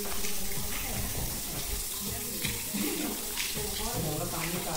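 Water flows steadily from a spring-fed village supply tank in rural Konkan, a continuous rushing splash heard fairly quietly with no voices over it.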